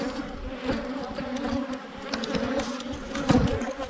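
Honey bees buzz steadily and up close throughout a hive inspection, a dense droning hum with individual bees zipping near and swelling louder for a moment.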